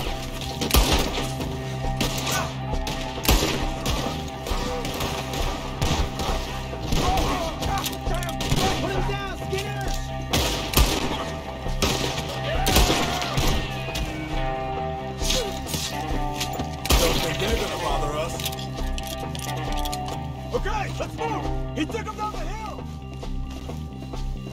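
Shootout gunfire in the video game Red Dead Redemption 2, repeated sharp shots and bursts in irregular clusters over music and game noise, with voices talking throughout.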